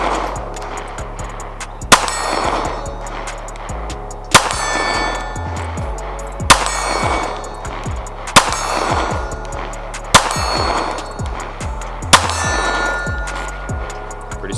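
Smith & Wesson Performance Center M&P Shield 9mm pistol with a red dot fired at a steel target, six sharp shots spaced about two seconds apart, each followed by a ringing metallic clang from the steel plate.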